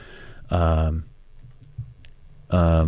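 A few faint computer keyboard clicks fall in the pause between bursts of close speech as shortcut keys are pressed.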